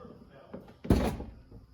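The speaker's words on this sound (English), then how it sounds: "So let's see what happens when we close the door." A BMW 335i car door shuts with a single solid thunk at close range, preceded by faint handling noises and followed by a brief rattle.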